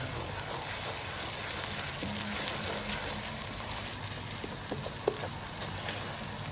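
Onion and garlic frying in a pan for a home-style egg and onion dish, a steady dense sizzle with faint crackles throughout.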